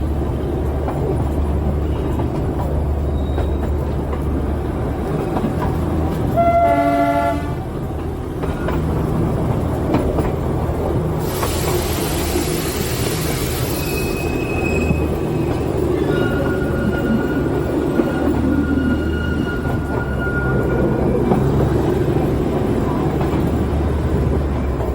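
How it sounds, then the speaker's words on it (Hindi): A Darjeeling Himalayan Railway narrow-gauge train approaching Rangtong station: a continuous rumble and rattle of wheels and carriages heard from on board, broken by a short horn blast partway through. "और हम लोग अप्रोच कर रहे हैं रैंगटोंग रेलवे स्टेशन को"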